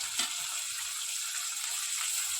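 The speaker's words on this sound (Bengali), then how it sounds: "লবঙ্গ, দারচিনি ফোড়নে দিয়ে দিলাম।" Whole cloves and cinnamon dropped into hot oil for Bengali tempering, sizzling as a steady bright hiss at moderate level with faint clicks underneath, no voices.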